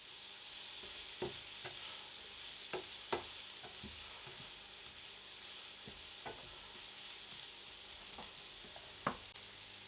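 Onion chunks frying in a pan for a Chinese takeaway-style dish, a steady sizzle underneath scattered sharp clicks and scrapes as the pieces are stirred around.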